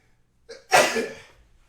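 A single sharp sneeze preceded by a quick inhale, close and fairly loud, fading out afterward.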